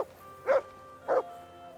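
A dog tracking a scent in the video game Kingdom Come: Deliverance 2 gives two short, evenly spaced barks about half a second apart, moderately loud over a quiet background hum.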